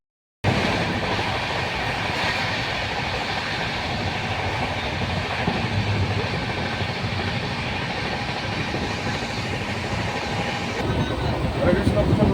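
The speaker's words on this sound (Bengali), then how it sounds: "আমাদের ট্রেন ছেড়ে দিয়েছে" A passenger train rolls steadily along the rails, its constant rumble and clatter heard from inside a carriage for the whole stretch, with faint voices underneath.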